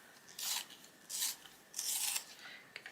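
A carmine red colouring pencil is turned in a sharpener, giving three separate close scraping rasps of about half a second each, the last the longest, with short quiet pauses between them and no talking.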